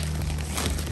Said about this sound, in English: just put a razor blade, cut it open